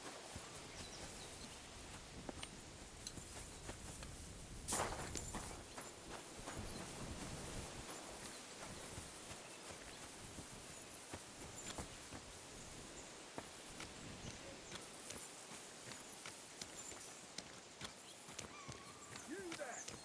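Horse hooves clop at a walking pace through a busy soundscape in the video game Kingdom Come: Deliverance II, with a sharp bang near the start and constant background noise.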